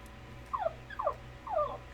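A small puppy whimpers in three short, high, falling whines spaced about half a second apart, close by and moderately loud over a faint steady hum.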